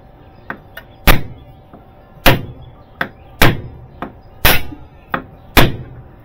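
Hammer blows on suspension parts of a Suzuki Carry kei truck during a new-parts install: about ten sharp, loud knocks struck in an uneven rhythm, close by and with no talking.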